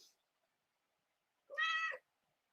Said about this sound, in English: Cat, stop with your trying to jump out of my arms, you crazy cat.